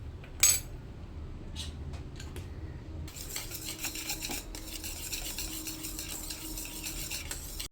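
Condensed milk and vanilla essence being mixed for maska buns, with soft spoon or whisk scrapes and clinks against a bowl, one sharp clatter near the start, then steady close stirring.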